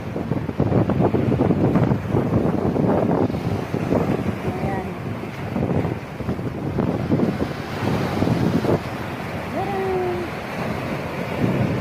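Strong wind gusts buffet the microphone at the seaside, with rough surf and waves crashing steadily underneath for the whole stretch, and a few faint tonal calls cutting through near the end.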